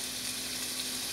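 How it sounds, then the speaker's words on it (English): Burgers fry in a pan with a dense, even sizzle that stays loud and close throughout, with no voices. "We're gonna cook these burgers on one side for 5 minutes."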